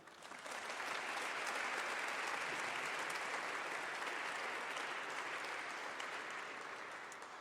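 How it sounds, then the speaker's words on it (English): A large audience applauds a guest speaker at a lecture event, a sustained wash of clapping swelling in and holding evenly, heard at a distance and fairly soft. "Please give a big round of applause to Dr. Robert George."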